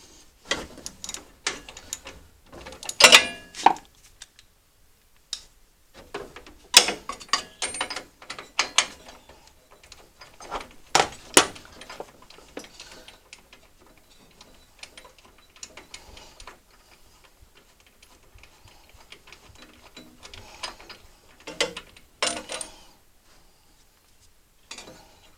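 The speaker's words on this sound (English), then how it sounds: "we'll go ahead and pull the spark plug out of it" A ratchet wrench clicking in short bursts while pulling the spark plug from a lawn tractor that won't start, close and fairly loud, with pauses between runs of rapid ticks and no talking.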